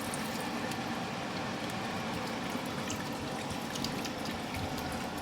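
Tap water pours steadily from a kitchen faucet into a pot of corn soup with chicken bouillon, a continuous close rushing splash with no talking.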